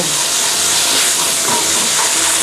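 Minced pork stir-fried with curry paste in a pan for Thai khua kling, giving a loud, steady sizzling hiss that continues without a break and with no talking over it.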